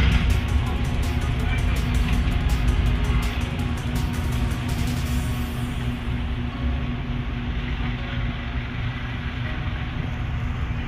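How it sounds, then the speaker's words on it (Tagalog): Steady road traffic roar from a nearby highway, loud and continuous throughout, with a brief rapid ticking at the start. "Malapit lang kasi kami sa highway, kaya maingay yung mga sasakyan"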